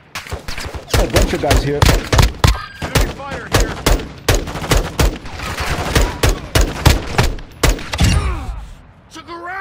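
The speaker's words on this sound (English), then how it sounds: "Oh, taking fire." Rapid bursts of gunfire crack out repeatedly in Call of Duty Warzone, loud and close with scattered echoing shots between them, while players talk over the shooting throughout.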